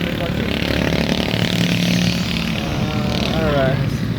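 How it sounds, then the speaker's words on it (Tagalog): A car goes by on the road outside Taal Basilica in Batangas, its engine hum rising then fading under continuous close talk from people nearby. "Oh, may kotse, may kotse. May kotse, may kotse."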